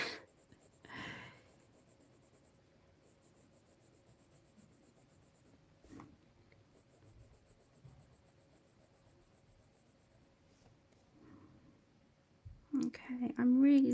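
Arteza colouring pencils rub and scratch softly across paper in short, quiet strokes with long pauses, followed by a brief louder burst of noise at the end.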